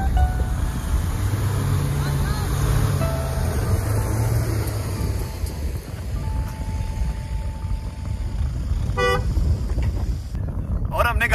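An SUV tugs a stuck off-road car out of beach sand, a steady engine drone under constant wind and surf noise, with voices talking over it and a brief horn-like tone near the end.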